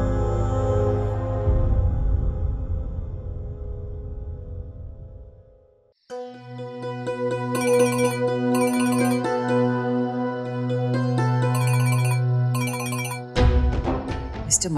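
A phone ringtone plays as an incoming call arrives, a steady melodic tone with repeating chimes after a brief fading music cue, loud and close, with no talk over it.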